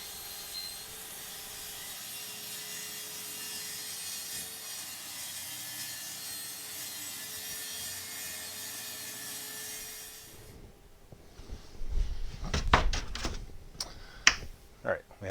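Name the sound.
Kreg track saw cutting plywood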